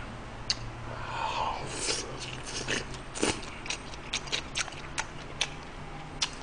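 Meat wrapped in a perilla leaf being chewed close to the mic, with soft wet bites and crunchy clicks scattered in an irregular rhythm over a faint steady background hum; no talking.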